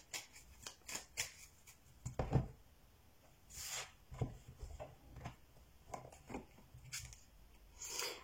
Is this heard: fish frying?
no